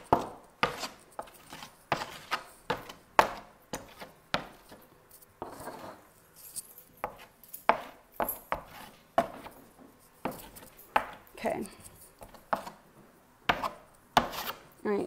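A wooden board coated in chalk paste is sanded by hand in short, rhythmic rasping strokes. The strokes repeat steadily in close-up with brief pauses between them.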